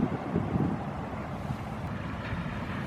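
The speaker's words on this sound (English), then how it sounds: "I got a couple commercial fisher boats running around out here." Commercial fishing boats running out on the water off Sitka, Alaska, a low distant engine rumble mixed with wind buffeting the microphone and faint wave wash, steady with no voices.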